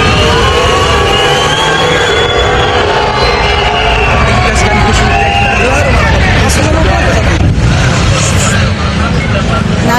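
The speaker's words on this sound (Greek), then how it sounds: "Κάτω από τις έντονες αποδοκιμασίες των διαδηλωτών που είναι συγκεντρωμένοι στο σημείο" Protesters gathered at a roadside loudly boo and jeer as the Greek prime minister's car passes, a dense continuous crowd roar mixed with vehicle engine noise and shouting throughout.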